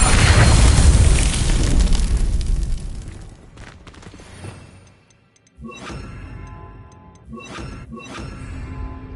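Spell blasts from Hogwarts Legacy combat: a heavy roaring explosion that fades out, followed after a brief silence by several sharp crackling bursts spaced apart.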